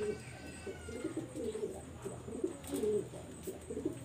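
A female pigeon cooing nearby in soft, repeated throaty calls over a steady background hum, with no talking.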